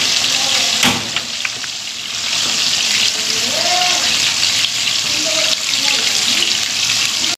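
A burger patty fries in a spoonful of oil on a stovetop, giving a steady, loud hiss and sizzle that runs the whole time with faint clinks above it.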